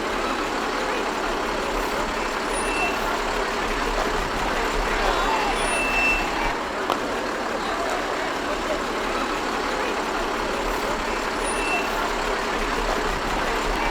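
Trucks roll past during a centennial parade in Winifred, Montana, a steady outdoor rumble of engines with brief high beeps and a faint thump midway, continuous for the whole stretch.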